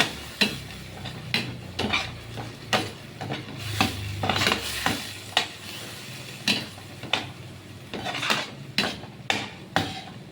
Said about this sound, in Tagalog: Kaya isasangag ko na lang.